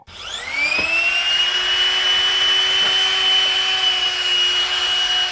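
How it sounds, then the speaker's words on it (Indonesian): A high-pitched DongCheng DSJ03-10 electric die grinder with a 3 mm metal drill bit drilling wood spins up quickly and keeps whining at a steady speed throughout, loud and close. "Ini saya mau coba untuk ngebor dulu."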